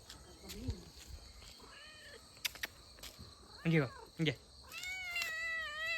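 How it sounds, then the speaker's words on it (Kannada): A domestic cat meows several times, short plaintive calls followed by a longer drawn-out meow, close by over a quiet background. "ನೋಡಿ ಇದು ನಮ್ಮ ಬೆಕ್ಕು"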